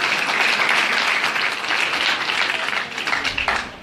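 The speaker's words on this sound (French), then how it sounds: "Allez, on applaudit les basses." A concert audience at a performance by a Belgian royal wind band applauds the bass section with a sustained, dense wash of clapping that stays loud and fairly even before tapering slightly at the end.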